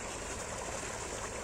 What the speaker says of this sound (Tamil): இந்த தண்ணி பாயிறது, தண்ணி வந்துட்டுருக்கு இல்லையா, போர்வெல்லு